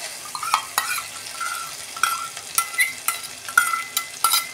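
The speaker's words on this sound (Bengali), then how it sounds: "এই যে আমি টক দইটা দিয়ে দিচ্ছি।" Sour yogurt stirred into fried spice masala in a pan, giving a soft sizzle under repeated scraping stirs and light utensil clinks in an irregular rhythm.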